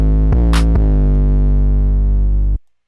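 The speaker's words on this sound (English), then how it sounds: "Now what this does is it really distorts your 808s." A distorted 808 bass in FL Studio, pushed through Fruity Fast Distortion, plays a sustained note with a gritty harmonic-rich buzz and two sharp retriggers near the start, loud and alone, then cuts off abruptly.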